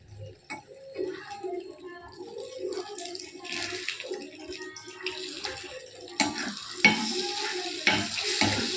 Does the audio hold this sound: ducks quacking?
no